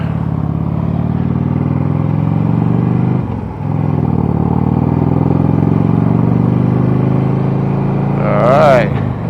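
Motorcycle engine runs steadily at cruising speed with constant drone and wind noise, a brief dip partway through and a rising rev near the end; no voices.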